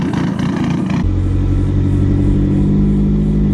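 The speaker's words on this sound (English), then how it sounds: "There's an illegally loud car driving around." A loud car with an aftermarket turbo drives past close by, its engine revving hard and then holding a deep, steady roar that fills the whole stretch.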